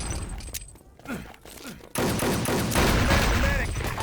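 Heavy gunfire in the video game Wolfenstein: Enemy Territory starts abruptly partway through as a dense, continuous barrage of shots, loud and close, after a quieter lead-in of scattered battle noise.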